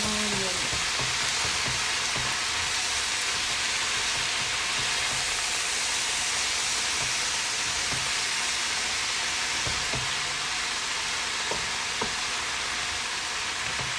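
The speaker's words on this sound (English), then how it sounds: "stir-fry red chard leaf" Red chard leaves stir-frying in a pan give a steady, fairly loud sizzle with broad hiss throughout, broken now and then by soft clicks and scrapes of stirring.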